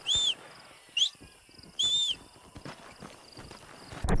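A war horse's hooves clip-clop in a steady gait in Red Dead Redemption, with several sharp, high whistled calls layered over the footfalls and a brief clatter at the very end.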